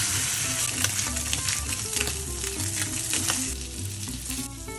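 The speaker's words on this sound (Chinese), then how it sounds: "再煎个蛋。" An egg fries in an oiled pan beside a meat patty, giving a continuous, loud, crackling sizzle with background music underneath.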